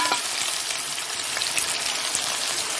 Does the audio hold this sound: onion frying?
yes